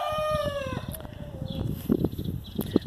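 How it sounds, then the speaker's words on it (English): A rooster crows once in a garden yard on the Pacific Northwest coast, a clear drawn-out call at moderate distance followed by faint background bird and yard noise. "The rooster hears me, so he's got to be heard as well."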